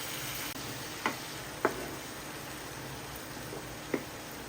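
Dhaba-style egg masala of tomato purée, Kashmiri red chilli powder and chicken masala sizzles steadily in a pan, a soft continuous hiss broken by a few sharp clicks of the spoon stirring, with no talk.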